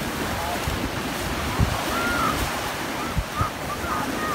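Sea waves rolling onto the shore at Karaburun beach near Kemerburgaz, a constant loud wash of surf mixed with wind buffeting the microphone, with a few heavier thumps.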